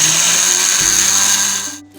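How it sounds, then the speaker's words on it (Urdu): An electric spice grinder whirs loudly at close range grinding dry roasted poppy seeds, coconut and sesame, a steady high motor whine that drops in pitch and winds down to a stop near the end. "ایک گرائنڈر کی پیالی لیں گے، اس کے اندر ہم ڈال کے اس کو پیس لیں گے ڈرائی، ان سب انگریڈینٹ"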